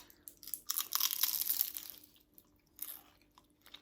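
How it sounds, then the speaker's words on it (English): A close, crisp crunch of biting into flaky baklava pastry, a dense burst of crackling followed by a few softer chewing crunches. "What a crunch."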